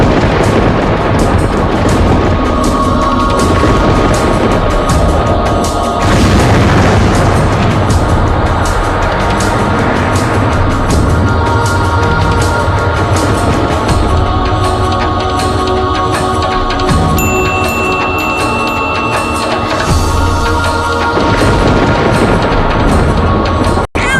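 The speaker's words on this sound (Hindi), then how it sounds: "अचानक ये बादलों की गड़गड़ाहट कैसी?" Deep, continuous rumbling thunder rolling from storm clouds, loud and sustained throughout with swelling booms, used as a dramatic film sound effect in a devotional movie about Khatu Shyam; no talking.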